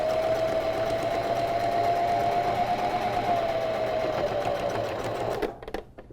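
Close and loud, a sewing machine runs continuously through curtain tape with a steady whirring hum and rapid needle chatter, then slows and stops near the end, leaving a few small clicks.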